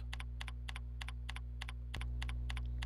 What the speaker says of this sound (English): all I do is type in my name here